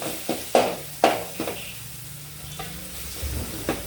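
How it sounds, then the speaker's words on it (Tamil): Oil sizzling with crushed garlic and dried red chilies as a spoon stirs the pan for rasam, several sharp scraping clicks over a steady, soft frying hiss. "இந்த நுணுக்கி வச்ச பூண்டு, வரமிளகாய் அது 1 நிமிஷம் வதங்கட்டும்"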